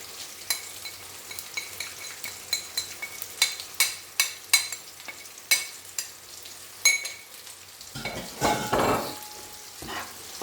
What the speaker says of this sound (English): you can see the fish is cooking away nicely